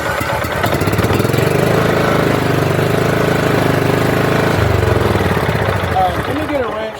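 A John Deere CV13S small engine with a loose carburetor bowl runs loudly and steadily with a chugging tone that shifts partway through.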